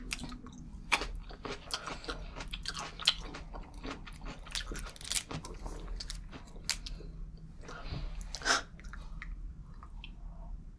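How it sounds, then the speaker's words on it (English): Parma ham from a charcuterie board is chewed slowly close to the mic, with soft wet squishes and scattered crisp bites over about ten seconds and no talking. "I'm chewing that parma ham slowly"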